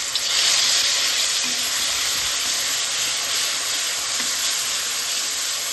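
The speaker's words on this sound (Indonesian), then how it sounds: "Ini minyaknya sudah panas dan waktunya kita tumis bumbu." Spice paste for fried noodles with shrimp frying in hot oil, a steady close sizzling hiss that stays loud throughout with occasional stirring scrapes.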